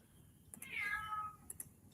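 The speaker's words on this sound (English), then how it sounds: "oh, my cat's going crazy over there." A house cat lets out a single drawn-out meow, fairly faint and somewhat distant, amid quiet room noise with a few light clicks before and after.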